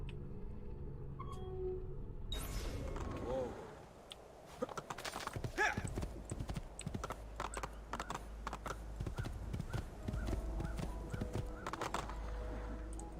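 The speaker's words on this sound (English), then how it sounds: "The random horse just chilling here." Horse hooves clip-clop steadily in Assassin's Creed 2, with a whinny near the start, then a continuous run of close, rhythmic hoofbeats over a low rumble of game ambience.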